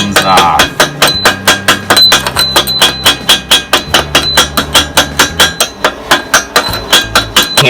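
Chipping hammer knocking slag off a fresh weld on a Massey 50 loader, a rapid run of sharp metallic taps at an even, quick rhythm, loud and close.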